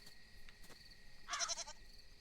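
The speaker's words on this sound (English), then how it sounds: "A goat, I should say, not sheep." Goat bleating in the farming video game Moonlight Peaks, a short wavering call of a few pulses partway through, moderately clear over a quiet ambient game background.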